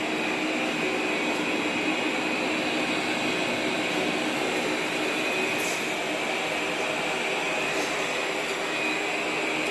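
A Roborock S7+ robot vacuum runs on its turbo setting, giving a steady, loud whirring roar with a high hiss that holds constant throughout without pause.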